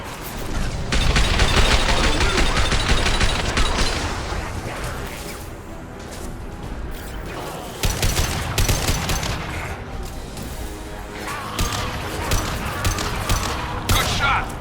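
Gunfire in the video game Mass Effect 2 Legendary Edition: loud, dense volleys of shots and impacts that run almost without a break, with brief swells of heavier fire.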